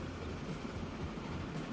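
A train rolls past in the Transport Fever 2 railway game: a faint, steady low rumble that holds evenly throughout.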